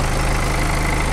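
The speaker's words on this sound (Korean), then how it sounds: "엔진 소리 일정합니다." A BMW 420d F32 coupe's diesel engine idles steadily with the hood open, a loud, even, close-up rumble with no talking.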